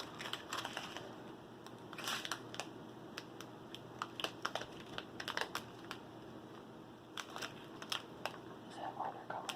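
Someone cuts open plastic toy packaging for DAC's Last Unicorn figure, making faint, scattered clicks and crinkles in a quiet room with occasional soft talk.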